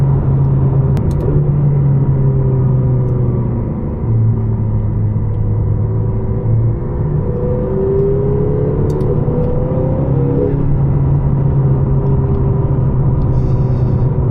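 A 2022 McLaren GT engine drones steadily from inside the car as it accelerates, with rising and falling tones marking quick gear shifts, loud and continuous with no talking.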